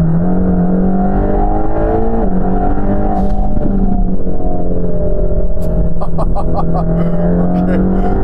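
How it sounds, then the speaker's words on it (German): An 860 PS Mercedes-AMG GT Black Series pulls out of a garage under full throttle, its engine roaring in a loud, continuous drone whose pitch climbs and shifts steadily as the car accelerates hard, heard from close by throughout. "jetzt fahren wir einfach mal aus der Garage hier raus und drücken mal richtig durch"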